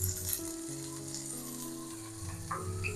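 Tomato with turmeric powder sautéing in a pan, for a tamarind curry with colocasia. A steady, close sizzle runs through the whole stretch with no voices, and a faint stir or clink comes near the end.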